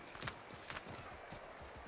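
Horse hooves clip-clopping at a steady gallop in Assassin's Creed 3 Remastered, a quick rhythmic patter of muffled thuds with a couple of sharper accents, fairly quiet over a soft game background.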